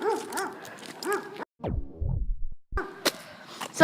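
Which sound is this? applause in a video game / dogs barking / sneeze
dogs barking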